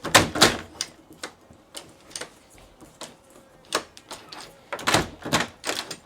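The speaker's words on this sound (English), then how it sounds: "let's lock the door then" A WELOCK biometric euro cylinder door lock engages as the door is locked, giving a series of sharp mechanical clicks and clacks at close range, irregularly spaced.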